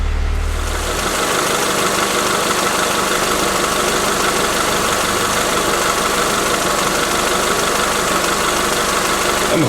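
A car engine with an exhaust leak idles loudly and close, a constant rumbling drone with a rapid ticking, puffing rhythm and no voices.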